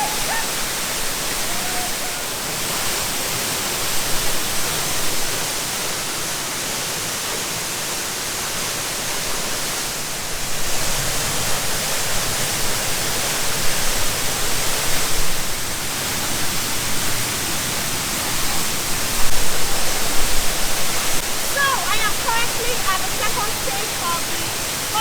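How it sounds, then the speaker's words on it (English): Broad, steady rush of Olumirin Waterfall at Erin Ijesha in Osun State, water gushing continuously and fairly loud throughout, with voices talking over it at times. "And I heard as we progress, the water keeps gushing more and more"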